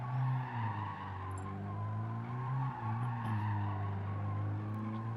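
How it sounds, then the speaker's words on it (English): Sustained tire squeal from a Honda Civic burning out its front tires on the Nordschleife in a racing game, a loud steady engine drone with wavering screech layered over it throughout, no speech. "Champ, seeing if he can take out a set of fronts before the race starts"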